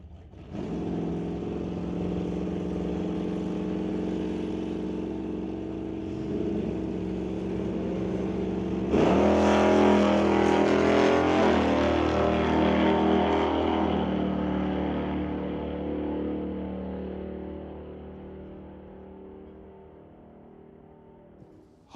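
An SBB Racing Dart hot rod on a drag strip, engine roaring loud and steady, then surging into a harsher, brighter full-throttle blast that gradually fades as the car pulls away.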